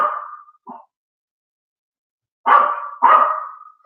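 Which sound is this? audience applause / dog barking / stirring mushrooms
dog barking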